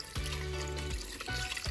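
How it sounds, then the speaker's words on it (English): Water poured into a pot of assorted meat (liver, wings) for pepper soup, two short splashing pours with a brief pause between them, close and fairly loud. "We're going in with some water."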